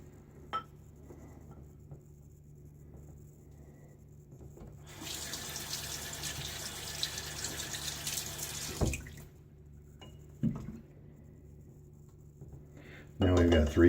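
Water running from a tap into a bowl of Barrister & Mann Leviathan shaving soap lather for about four seconds, a steady close hiss between quieter stretches, with faint talk and soft clinks around it.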